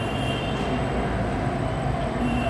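A Kolkata Metro train runs through an elevated station with a steady, loud rumble of wheels on rails and faint squealing tones, close by and continuous.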